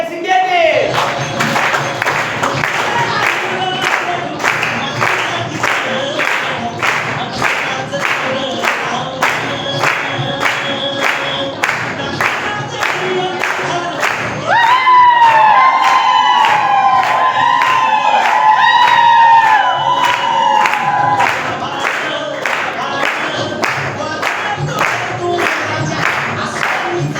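An audience at a stage event claps and cheers loudly and continuously, with rhythmic clapping, whoops and shouts throughout; music and a singing voice rise in the middle before the applause carries on.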